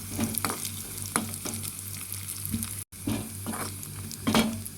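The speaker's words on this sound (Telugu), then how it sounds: "ఇందులోనే జీడిపప్పు, ఎండు ద్రాక్ష, బాదం పప్పు అన్నీ వేసుకొని కొద్దిగా ఫ్రై చేసేసుకుందాం" Cashews, raisins and almonds fry in hot fat in a pan, giving a steady close sizzle broken by scraping stirs of a spoon against the metal, with one brief dropout midway.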